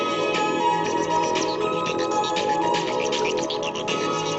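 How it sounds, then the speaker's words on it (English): A song played back through a radio receiving a homemade long-range FM transmitter, heard as dense, steady, slightly thin full-band music at constant loudness with no one talking. "I'm going to play a song."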